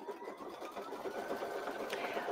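A computerized quilting machine stitching out a design, giving a faint, steady mechanical hum with a fast stitching rhythm, heard alone at a low level.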